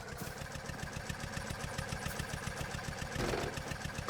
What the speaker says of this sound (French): Allez, démarre le moteur.